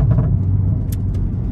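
Tuned Cupra Ateca engine and exhaust, a deep, close, steady rumble that holds through a short stretch with a faint high tick or two.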